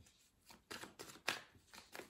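A deck of tarot-style oracle cards is shuffled and drawn for a reading, giving a few soft riffling and sliding bursts at irregular intervals, close to the microphone and fairly quiet.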